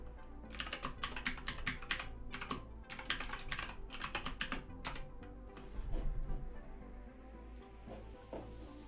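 A password being typed on a computer keyboard, with quick bursts of crisp key clicks that stop and start in irregular clusters, close and fairly quiet.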